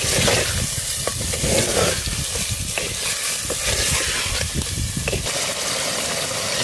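A steady bubbling, hissing boil of meat in a clay pot fills the clip, dense and close, with faint clicks and stirring noises throughout and no voices.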